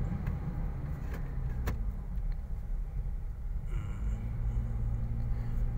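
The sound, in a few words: Toyota Fortuner automatic car driving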